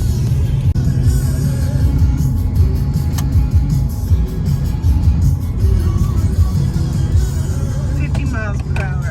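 Car interior on the road at speed, a loud constant low engine and tire rumble that runs without pause, with people chatting over it throughout.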